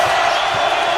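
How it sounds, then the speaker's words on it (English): LSU Tigers home crowd at an NIT basketball game against UL-Lafayette roaring and cheering, a loud continuous wash of massed voices throughout. "Now the Tigers crowd comes alive."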